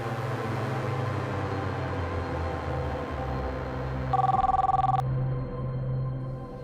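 A telephone rings once as a call is placed, a short buzzing ring tone rising clearly over a steady low background hum before cutting off; no one speaks.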